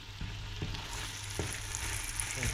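Onions frying in a pot as the start of a ratatouille soup, a steady soft sizzle close up with a few light stirring knocks, quiet and without voices.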